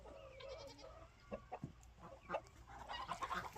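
Farmyard chickens, including Rhode Island Reds and black copper Marans roosters, cluck in a run. Several short clucks and squawks come from nearby at a moderate level, with a denser burst of clucking near the end and no talk.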